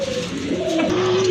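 A pair of pigeons, including Danish breeds, coos close by in a short, clear, rolling call that rises and holds steady over faint background hiss.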